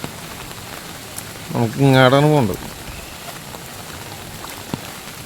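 Steady rain falls on a road, a soft even hiss throughout, with a single voice speaking briefly in the middle.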